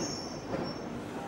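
A London Underground train runs steadily with a continuous rumbling roar and a thin high wheel squeal on the rails, heard from close by with no voices.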